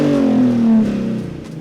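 A sports car engine with its rear silencer removed revs up loudly and then falls away, a raw, throaty roar close by.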